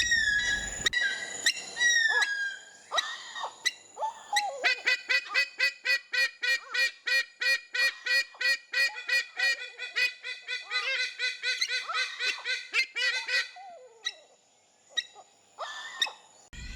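A long run of rhythmic, honking calls from a Philippine eagle repeats rapidly and evenly, nasal and crow-like, bracketed by a few scattered single calls before and after, at a conservation center.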